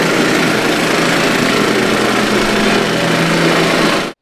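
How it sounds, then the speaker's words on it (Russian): Vibratory plate compactor tamping sand and crushed stone during street repairs in Samara, a loud, steady close-up engine drone with dense rattling vibration that runs without pause, then cuts off abruptly. "затем песок и щебень утрамбовывают виброплитой"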